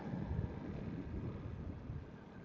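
Low, steady cold wind rumbles across the microphone on an off-road mountain trail in Tacadang, a faint continuous buffeting with no voices.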